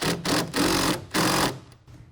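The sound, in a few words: wrench tightening a clamp bolt on a truck bed rail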